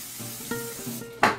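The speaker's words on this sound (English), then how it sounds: "I spray my hands." A brief hiss of aerosol cooking spray onto hands near the end, after a few soft kitchen clinks and rustles while mixing chocolate Rice Krispy treats.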